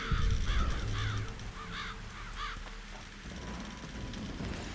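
Harpies in The Witcher 2 give a string of harsh, rasping crow-like caws, four or five calls in a row, loud and close over a rumbling, rain-like game ambience with no talk.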